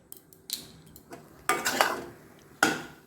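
A spoon stirring a sweet coconut mixture with cardamom in a pan over a low flame, heard as a few scattered scraping and clinking strokes, the loudest near the end, with quiet gaps between.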